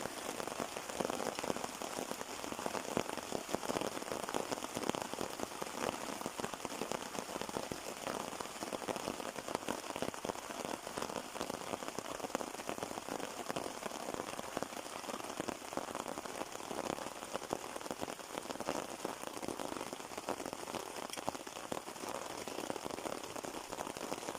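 Heavy rain pours steadily on a lakeside camp at Lake Brunner, a dense, unbroken hiss of drops drumming on surfaces that stays constant and close throughout, with no voices.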